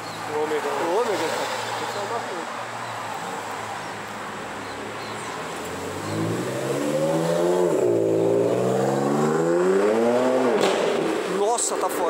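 A loud Chevrolet Omega engine on a busy city avenue revs hard and climbs in pitch in the second half, roaring up close while people talk nearby.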